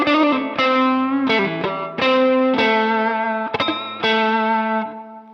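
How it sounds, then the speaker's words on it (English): Electric guitar through an SD1 overdrive pedal with no compressor, a driven run of sustained chords and notes played alone, loud and close, with clear attacks and ringing decays. "So let's try SD1 without compression first."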